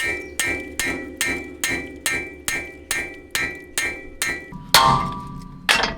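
Hammer blows striking a steering link stud to knock it loose during a Marlink steering install on an 80 Series, ten or so evenly spaced metallic clangs close up, followed by a heavier ringing hit and one last strike.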